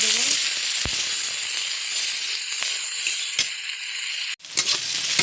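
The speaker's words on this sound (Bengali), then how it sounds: "দেখুন পেঁয়াজটা ভাজা হয়ে গিয়েছে" Onions sizzle steadily in a hot pan with salt and turmeric for chicken bhuna khichuri, a dense continuous frying hiss with occasional clicks from stirring. The sizzle is close and loud and briefly cuts out near the end before resuming.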